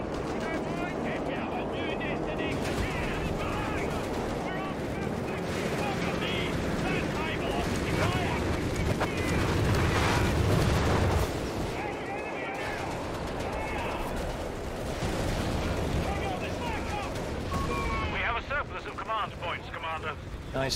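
Mortar and artillery fire in a Company of Heroes 3 4v4 match, booming blasts and explosions rolling over a dense battlefield din, with players talking over the action throughout.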